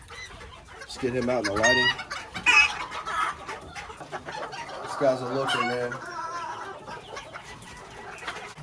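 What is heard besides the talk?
Old English Game Bantam chickens clucking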